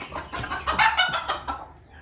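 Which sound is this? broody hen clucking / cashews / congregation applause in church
broody hen clucking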